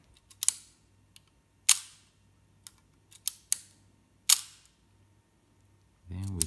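A Sputnik camera's shutter fires several times at the 1/60 setting, giving sharp, close mechanical clicks spaced irregularly across the clip, with a brief low voice at the very end.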